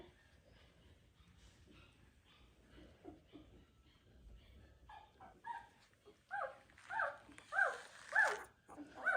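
Sheepadoodle puppy whimpering and yipping close by, quiet at first and then rising into a series of louder high-pitched whines near the end, with faint rustling beneath.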